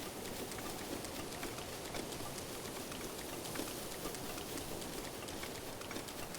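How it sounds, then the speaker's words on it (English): Steady rainfall in the video game Zelda: Breath of the Wild, a constant broadband hiss with scattered pattering drops running evenly throughout. "Infinite rain."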